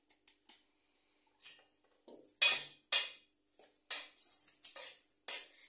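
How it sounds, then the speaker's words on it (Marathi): Dry rava uttapam batter ingredients, with salt, curry leaves, chilli, coriander and chopped onion, being stirred together in a bowl. A spoon gives light, sharp clinks and scrapes in scattered bursts with quiet gaps between them and no talking. "सुकच मिक्स करून घ्यायचं"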